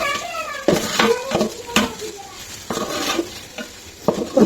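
Prawn pickle being stirred in hot oil in a pan, with repeated scraping strokes of a spoon against the pan over a soft continuous sizzle, close and fairly loud.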